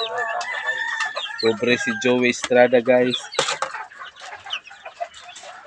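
A rooster crows loudly in several long, stacked calls with clucking from other fowl around it, while someone talks over and between the calls.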